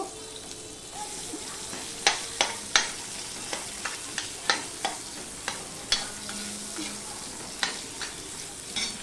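Onions frying in oil in a pan for a Bengali bata fish curry, a steady close sizzle broken by a series of sharp clinks and scrapes as the spatula stirs the pan.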